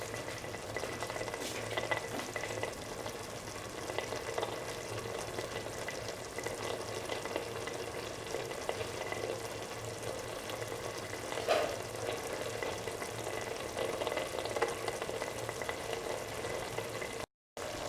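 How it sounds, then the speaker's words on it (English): Egg frying with cauliflower and other ingredients in a pan, giving a continuous, even sizzle close by for the whole stretch, with no talking over it. "Break the yellow portion and Let it fry for around 2 minutes."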